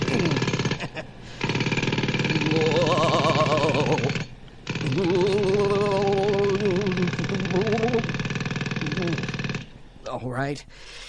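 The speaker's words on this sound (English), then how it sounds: "Okay, little jackhammer." A loud jackhammer pounds in long rapid bursts, stopping briefly a few times, with voices chattering over the hammering.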